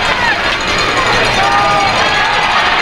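A crowd of spectators at a high school football game between the WFHS Coyotes and the Rider Raiders roars loudly and continuously throughout, with a commentator talking over it.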